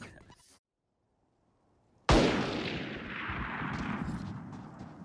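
A single loud, sharp gunshot from the video game Valorant cracks close up after a near-silent gap, followed by a long rumbling tail that lingers under faint background noise.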